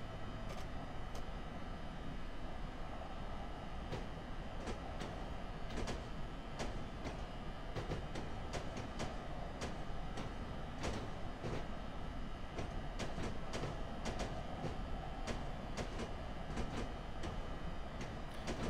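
An ALP-45DP electric locomotive runs on the North Jersey Coast Line in Train Simulator 2017, giving a steady loud rumble and hum throughout with scattered sharp rail clicks.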